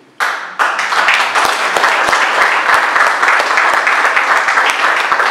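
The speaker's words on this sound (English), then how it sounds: "Definitely something to clap about." Audience applause at a World AIDS Day speech at a community center, starting abruptly and swelling into dense, steady clapping from a crowd that fills the room for several seconds.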